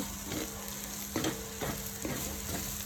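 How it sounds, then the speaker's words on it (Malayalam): Onions sautéing in a pan for a chickpea curry give off a steady close sizzle, broken by scraping stirs roughly every half second, with no voices. "ഉള്ളി വഴട്ടാനിട്ടു."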